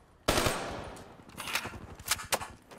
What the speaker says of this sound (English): Damn, they got a sentry gun now?